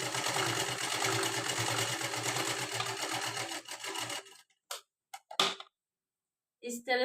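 A sewing machine stitches blouse fabric in a loud, steady run for about four seconds, then stops, leaving a few short mechanical clicks and knocks amid near silence.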